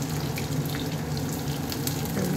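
Potatoes and onions fry in oil in a pan, a steady, moderate sizzle with a low hum that carries on without pause.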